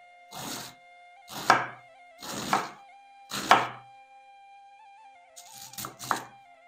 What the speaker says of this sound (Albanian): Në kështu mënyrë të njëjtë do të coptojmë gjithë lakrën